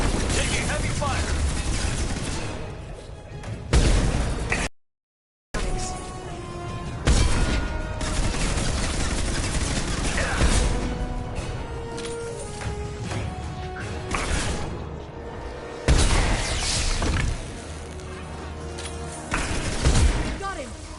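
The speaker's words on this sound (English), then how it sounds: "Taking heavy fire." Heavy gunfire in the sci-fi video game Mass Effect 2 Legendary Edition, scattered loud impacts and bursts with a brief dropout, mixed with game music and combat voices talking throughout.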